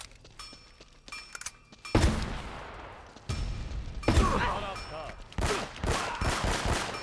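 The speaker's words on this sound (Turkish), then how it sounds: "Bu nereden vuruyor lan? Arkadan mı vuruyor?" Gunfire in Uncharted: Drake's Fortune comes in loud, close bursts of rapid shots with heavy thuds and impacts between quieter pauses, a voice occasionally talking over it.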